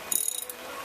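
A ratchet wrench turning counterclockwise to loosen a spark plug, giving a quick run of about eight sharp, close clicks that fades into quiet.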